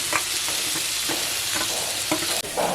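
Boiled fish and young neem leaves are stirred and fried together in a pan in a village kitchen, giving a steady close sizzle with repeated scraping stirs of a spatula.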